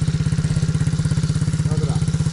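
A kids' MRF 80cc motorcycle engine idles steadily nearby, a loud, even, fast-pulsing putter with a faint voice briefly audible beneath it.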